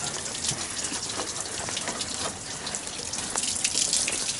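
Water from a garden hose gushes steadily through a Ford car radiator during a coolant flush, a continuous hissing, splashing flow close by with no talking.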